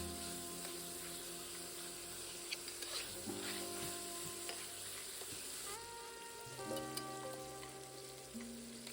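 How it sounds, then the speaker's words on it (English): Pork belly sautéing in a pan for a Hunan stir fry, with a faint, steady sizzle and light stirring scrapes behind background music. "Saute until the pork belly gets soft and fat is coming out."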